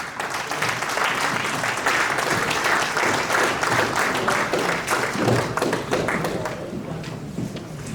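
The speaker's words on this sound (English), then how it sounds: "please give him a round of applause" An audience applauds a speaker coming to the stage at an association president's inaugural event, a dense, sustained round of clapping from a sizable crowd that holds steady and fades slightly at the end.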